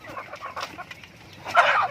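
Free-range native chickens clucking nearby, a series of short soft clucks building to a louder burst near the end, no talking.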